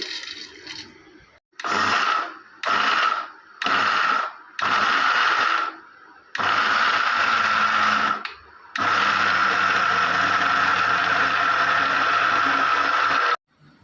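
A kitchen mixer grinder crushes flax seeds, sesame and peeled peanuts in its jar. Several short whirring pulses are followed by two long continuous grinding runs, loud and close, with no talk.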